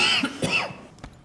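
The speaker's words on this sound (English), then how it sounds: "I'm on the coughing break now" A few harsh coughs in quick succession, close and fairly loud, trailing off into a throat-clearing rasp.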